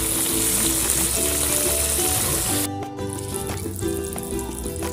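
Beef simmering in sauce in a pot, a steady bubbling and sizzling hiss that runs the whole time, loud and close, dipping briefly about halfway before carrying on.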